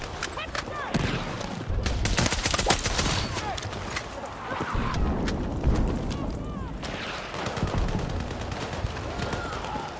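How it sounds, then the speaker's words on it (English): Sustained gunfire in the Battlefield 6 video game, with dense bursts of rapid shots and booming impacts from a designated marksman rifle firefight, loud and continuous across the whole stretch with battlefield clutter behind it. "I don't even know what I'm shooting at"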